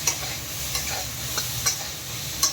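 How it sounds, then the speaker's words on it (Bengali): Cauliflower florets seasoned with salt and turmeric fry in a hot pan until reddish-brown, giving a steady soft sizzle with a few sharper clinks and scrapes from stirring. "ফুলকপি ভাজা হয়ে গেছে লাল লাল করে"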